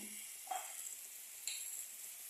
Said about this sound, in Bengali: মানে জিনিসটাকে একটু মশলা সহ জিনিসটাকে একটু কষাবো